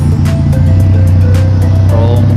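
Road traffic rolls by at Agoo, La Union, a loud, constant engine drone close at hand, with a few brief swishes of vehicles passing and no voices.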